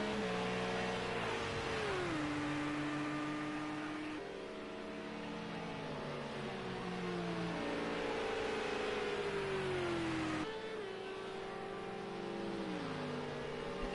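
Porsche race car engine during an endurance race at Spa chasing a McLaren, loud high revving that climbs and drops through gear shifts in repeated waves over several seconds, passing close by.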